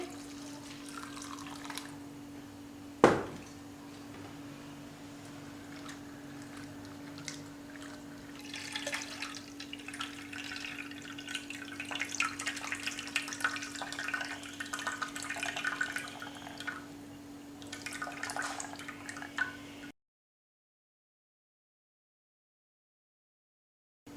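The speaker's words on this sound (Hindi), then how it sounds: "और एक मरतबा साफ पानी डाल के" Gentle sloshing and trickling water as chickpeas are rinsed in a bowl, with a sharp knock near the start, then silence at the end.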